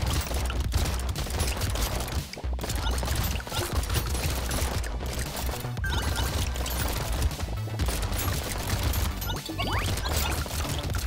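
Rapid, dense gunfire from the weapons in the arena shooter Brotato, loud and continuous with overlapping shots and impacts for the whole stretch, broken only by a few brief dips, with no talk.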